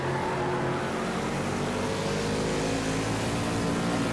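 A NASCAR race car's engine drones steadily on throttle on the Sonoma road course in Project CARS 2, a continuous, fairly quiet sustained roar without breaks.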